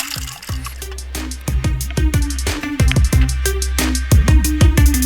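Soaking water poured off well-soaked dal before pressure cooking, a steady liquid pour broken by repeated splashes and drips, close and fairly loud with no talking.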